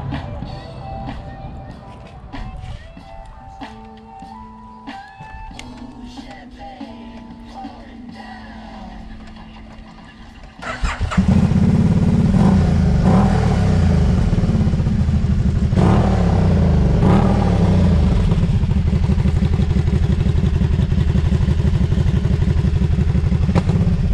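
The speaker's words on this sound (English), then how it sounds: "I'll turn that off so you can hear the pipes." Can-Am Spyder three-wheeled motorcycle, fuel injected with aftermarket exhaust pipes, heard first amid clattery background noise, then starting and settling into a loud, close, steady rumbling idle with occasional revs through the pipes.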